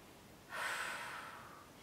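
A single soft, close exhale during a floor stretching and mobility session, rising suddenly and then trailing off slowly against a quiet room.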